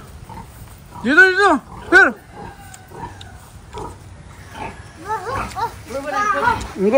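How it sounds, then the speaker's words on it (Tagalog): Pigs grunt and squeal in short bursts while being fed on a farm in Cavite, Philippines, close and fairly loud, with people talking over and between the animal calls. "magpapakain kami ng baboy"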